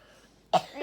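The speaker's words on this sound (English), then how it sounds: "got a little bit of a cold, that's why he's coughing" A young child with a cold gives a single sharp, close cough after a quiet moment, the burst tailing off into a short raspy follow-through.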